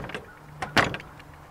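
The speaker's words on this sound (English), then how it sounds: "We're going to check for loose doors." Doors on a medium-duty truck are pulled and rattled during a pre-trip inspection, giving a few short mechanical clunks and latch rattles, the loudest near the middle, with quiet gaps between.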